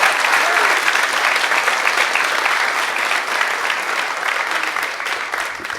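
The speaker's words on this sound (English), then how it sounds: "let's give another big round of applause for Martika and William." An audience at a film screening event breaks into sustained applause, a dense wash of clapping that holds loud and steady before tapering slightly toward the end.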